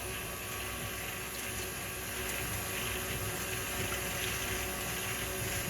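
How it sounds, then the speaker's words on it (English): Milk poured slowly into a pan on a stovetop turned to low while cooking stuffed chicken in cream sauce, a steady continuous liquid wash with faint bubbling heard alone throughout. "Slowly pouring this in."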